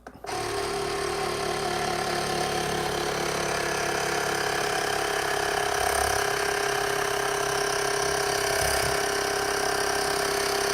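An X Bar espresso maker pumping a shot, a loud, steady mechanical buzzing hum that starts abruptly and holds with a constant vibrating drone throughout.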